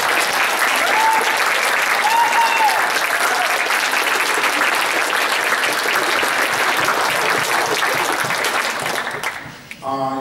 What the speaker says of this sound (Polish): Wielkie brawa dla nich.